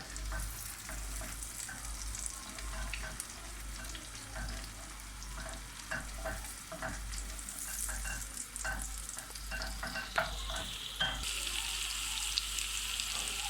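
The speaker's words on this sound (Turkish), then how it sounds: "Şu anda biberlerimiz kızarıyor." Peppers frying in butter in a pan for a buttered shrimp casserole, a steady sizzle with occasional stirring clatter, continuous and moderately close throughout.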